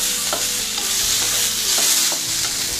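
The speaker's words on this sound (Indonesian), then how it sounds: "Bawang putih ditumis harum ya teman-teman, lalu masukkan labu siam. Dioseng ya, ditumis." Chayote frying with garlic in a pan, a steady bright sizzle with light, regular scrapes and stirs throughout and no talk.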